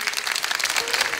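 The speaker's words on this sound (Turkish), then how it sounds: "Bir alkış da Engin Gayrimenkul'e gelsin." Studio audience applauding on a Turkish folk music TV show, a brief steady burst of dense clapping, close and fairly loud, with no voices over it.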